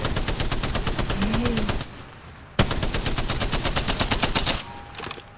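Spitfire light machine gun in Apex Legends firing two sustained automatic bursts of rapid, evenly spaced shots, loud and close, separated by a short pause.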